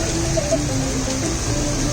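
Rain falls steadily in Ubud, Bali, a dense, even hiss of drops with no breaks and no voices.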